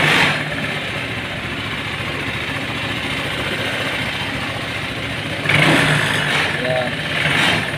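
Honda PCX150 scooter engine idling on a bike lifter after a cylinder block replacement, a steady close mid-pitched hum with a rattling vibration and a brief rise in level near the end, and someone talking over it.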